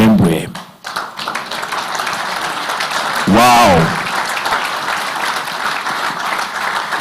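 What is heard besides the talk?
audience applause at an awards ceremony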